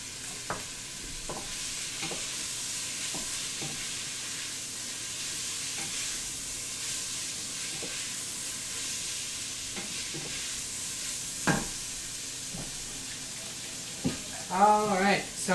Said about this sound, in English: We're going to add our peppers, our garlic.